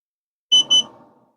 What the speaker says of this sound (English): My probe alarm just went off at 1:35.